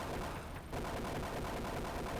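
Gunfire aimed at a turret gun in a SEGA Genesis game, a dense, continuous stream of retro shots that briefly dips, then carries on loud and without pause.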